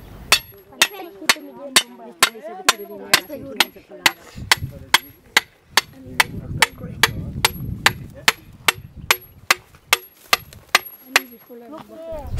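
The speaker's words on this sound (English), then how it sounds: "First, we hammered the star pickets into the ground." A steel star picket is driven into the ground with a hammer, giving a steady run of about thirty sharp, ringing metallic strikes at a regular pace, with voices and background noise underneath.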